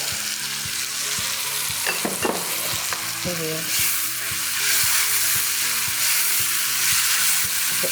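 Potatoes and meat fry in a pan with a continuous loud sizzle, while a spoon scrapes and stirs through them in several distinct strokes; no one speaks.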